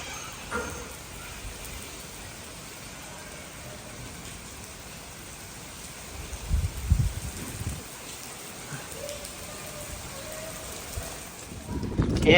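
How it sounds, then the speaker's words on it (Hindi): Rain falls outdoors in the countryside near rice fields, a soft steady patter under faint background noise, with a few louder low rumbling bursts partway through. "तो बारिश शुरू हो गई है"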